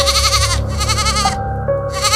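A tethered goat outside a house bleats loudly and continuously in long wavering cries, with a steady tonal drone and soft background music underneath throughout.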